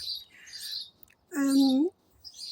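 Small birds chirp outdoors in short bright bursts, scattered near and far, with a louder sustained call in the middle and quiet stretches between.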